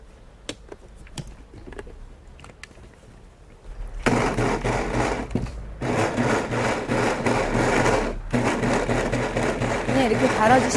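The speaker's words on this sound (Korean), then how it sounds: "우선 갈아줄게요. 갈 때는 그냥 소리가 계속 날 것 같다." Blender grinding ingredients with water for thick doenjang stew, starting after some light clinks and handling noises, then running loud and close in two long whirring bursts separated by a brief pause.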